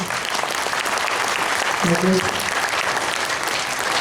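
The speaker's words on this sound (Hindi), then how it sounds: "एक बार जोरदार तालियों के साथ आगे बढ़ा जाएगा।" A large audience at an Ojas Aahaar Chikitsya health camp in Jaipur claps together in a dense, sustained roar that holds steady and fills the whole space.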